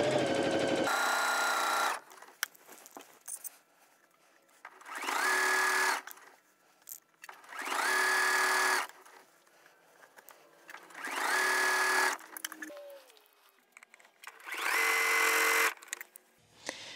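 A sewing machine runs fast along quilt binding in repeated bursts of loud, high-pitched whirring, about five runs with quieter gaps between them, close up and without speech.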